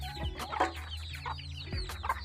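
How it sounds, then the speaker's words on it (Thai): A hen in a chicken coop clucks in short repeated calls, close and clear, with low murmuring bird sounds underneath. "อันนี้ก็แม่ไก่นะครับ มีกบไข่อยู่ข้างในนะครับ มีไข่ไก่อยู่"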